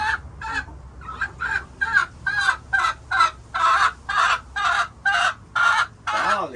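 A flock of backyard hens gathered beneath a treat dispenser, clucking in a rapid run of loud, close, evenly spaced calls with little pause between them.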